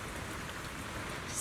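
Steady rain hisses in the video game Zenless Zone Zero, a dense even wash of falling drops with no distinct individual patters, fairly quiet throughout.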